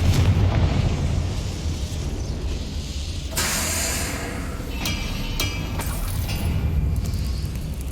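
Confringo fire-blast spell from Hogwarts Legacy exploding in booming bursts over a dense, roaring low rumble, with several sharp blasts in quick succession, loud and continuous throughout with no talking.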